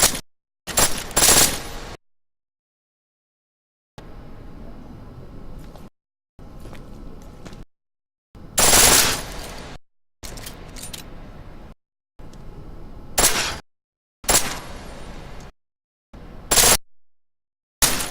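Pistol firing on full auto in Deus Ex: Mankind Divided, heard as several short, loud bursts of rapid shots separated by quieter stretches of background noise and brief pauses.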